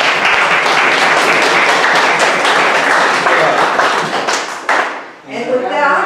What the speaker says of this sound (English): We have applauded for every other speaker, so I would like to applaud the comments.